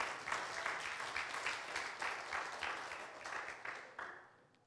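A church congregation at Grace Myanmar Christian Church breaks into sustained applause, a dense wash of many hands clapping with small surges, then fading away near the end.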